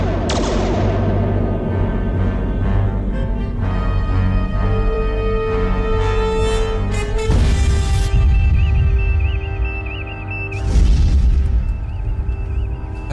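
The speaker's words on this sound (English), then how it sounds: "Photon torpedoes. Broadest possible spread. At this range, the blast will impact us as well." Photon torpedoes fire and detonate in a Star Trek fan film battle, giving loud, deep booms and rumbling blasts in quick succession, with a fresh burst of explosions near the end over a tonal score.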